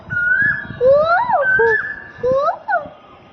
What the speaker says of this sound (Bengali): কোকিল ডাকছে এই গাছটাতে